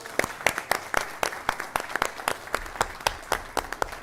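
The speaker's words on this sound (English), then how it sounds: "Let's give them all a round of applause." Sparse, uneven clapping from a small audience at a county school board meeting in Halifax County, Virginia, with individual claps standing out in a loose, steady rhythm, moderately near and fairly quiet.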